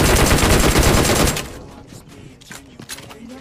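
Rapid automatic gunfire from the mobile battle royale game PUBG Mobile, a loud dense burst for over a second, then sparser fainter shots and clicks.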